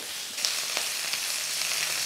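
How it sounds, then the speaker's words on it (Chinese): Prawns pan-fried on both sides in a wok for a Cantonese dry-braised prawn dish give off a steady, close sizzle with faint stirring clicks, no talking. "把这个虾两面给煎香"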